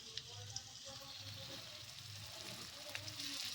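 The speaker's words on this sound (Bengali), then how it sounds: "এটা বেরেস্তার জন্য ভাজা হচ্ছে" Sliced onions fry for biryani beresta with a quiet, continuous sizzle. A few faint pops and crackles rise out of the hiss, and a low hum sits underneath. No one talks.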